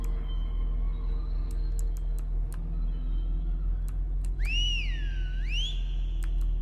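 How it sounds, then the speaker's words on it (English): A person whistles a couple of short rising and falling tones over a steady low hum, with faint scattered clicks in the background. "I just whistled because..."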